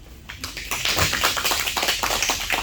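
An audience at an agricultural farming-education lecture claps together in a dense, steady patter of many hands, close and fairly loud, with no talking over it.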